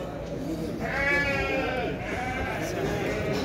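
Sheep bleating at a small-livestock market in Şarkışla, with a drawn-out wavering bleat close by under the steady chatter of people talking.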